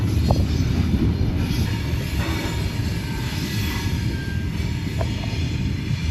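A heavy iron ore freight train in Mauritania rumbles steadily along the tracks, a continuous loud low roar with faint metallic squeals and clanks mixed in.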